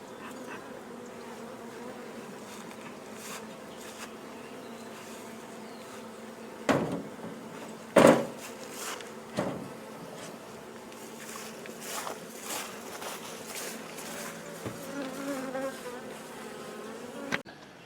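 Honey bees buzz steadily during a swarm being caught and moved, with a constant near hum broken by a few sharp knocks and handling thumps.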